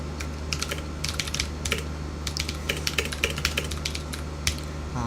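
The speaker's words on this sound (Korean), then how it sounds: "지금 쓰는 키보드가 청축 키보드여서 약하게 쳐도 그 탁탁 소리가 많이 납니다" Steady, close clicking from a blue-switch mechanical keyboard, crisp tactile keystrokes arriving in quick irregular bursts with brief pauses, over a low constant background hum.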